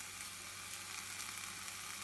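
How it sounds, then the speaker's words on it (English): A ham and egg omelet with bell peppers and green onions fries in a pan during car cooking, giving a steady, close hiss of sizzling with no talk. "We have sizzling"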